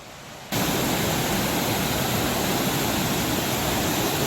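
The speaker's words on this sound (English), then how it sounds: "That is Moccasin Creek down there." Moccasin Creek, an Appalachian mountain stream in northeast Georgia, rushing loudly and close by as a constant broadband roar of water that starts abruptly and then holds steady.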